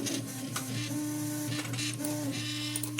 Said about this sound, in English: Prusa i2 is printing out a hook for my pegboard.